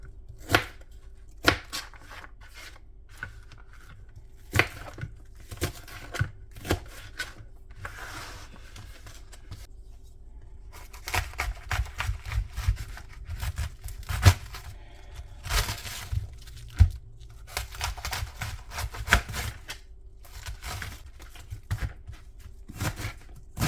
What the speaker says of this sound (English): what I'm going to do first is slice up the onion and the cabbage